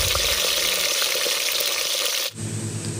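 Onions frying in a pan for a bachelor-style chicken curry give a steady, fairly close sizzle. Near the end it shifts abruptly to a quieter, lower cooking sound.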